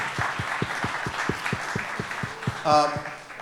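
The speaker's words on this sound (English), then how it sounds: "Please, applause." A conference panel audience claps and applauds, a dense wash of hands over a steady rhythmic beat, with a voice briefly cutting in near the end.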